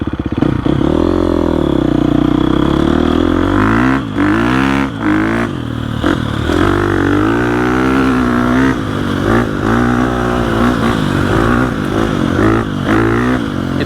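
A 2021 GasGas EX 350F dirt bike's 350 engine revs and pulls on a trail ride, loud and close, rising and falling through gear changes with brief throttle cuts.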